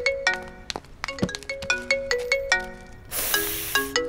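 A phone ringtone playing a bright electronic melody of repeated tones in a steady pattern, fairly loud and close, with a brief burst of noise near the end.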